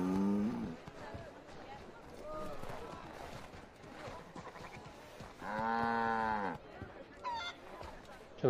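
A cow moos in Assassin's Creed III, one long, loud, drawn-out low call near the middle, with a voice speaking before and around it.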